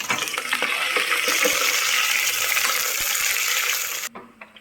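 Onions and green chillies fry in a pan of oil with bay leaf for a mutton biryani, giving a steady, close, loud sizzle with small clinks and stirring scrapes that cuts off abruptly near the end.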